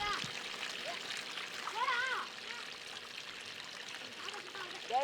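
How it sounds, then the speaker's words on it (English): Water poured onto dug-out soil spread on a plastic sheet, a soft trickling and splashing stream running steadily, fairly quiet, with faint background voices. "Add some water to help break up the soil."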